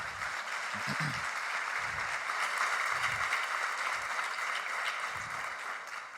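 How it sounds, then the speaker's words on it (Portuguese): A church congregation claps together in steady, dense applause that fills the room evenly and loudly throughout, with low thumps scattered underneath. "Pode aplaudir o Senhor."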